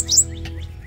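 A prothonotary warbler sings among branches, giving a brief bright chirping call close by, with quieter tweets trailing after it over a low background rumble.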